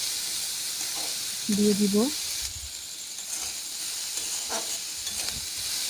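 Onion, garlic, ginger and chili paste fry in a pan with a steady hiss, punctuated by brief stirring scrapes and a short spoken phrase.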